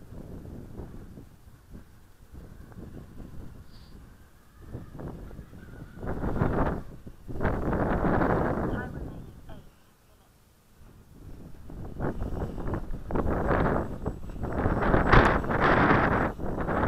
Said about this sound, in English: It's a giant gust.